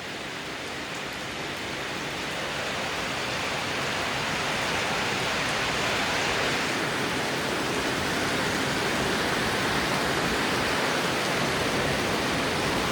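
Heavy rain pours down steadily with no wind, a dense, even hiss of countless drops striking surfaces that builds slightly in the first seconds and then holds loud and unbroken, with no voices.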